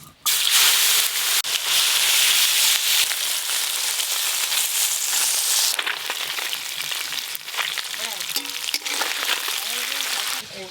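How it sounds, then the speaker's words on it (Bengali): Small mourala fish fry in hot oil, a loud, continuous hiss and crackle that fills the whole stretch, with a voice talking faintly in the background near the end. "এবার মাছগুলো ভেজে নেব।"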